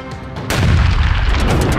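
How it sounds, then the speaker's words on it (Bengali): A mine blast in a village: a sudden loud boom about halfway in, followed by a sustained low rumble, with quieter rumbling beforehand. "হঠাৎ বিস্ফোরণে মাটি কাঁপে, উড়ে আসে পাথর, চির ধরে দেওয়ালে।"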